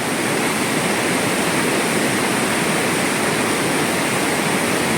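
The Amrita Ganga river, swollen by the start of the rains, rushes through hills and valleys near the Atri Maharshi ashram. It makes a loud, steady, close roar of fast water with no voices.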